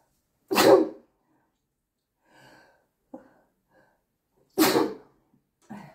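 Two sharp human sneezes come about four seconds apart, each a sudden loud burst, with quiet breathy sounds and a short gasp between them.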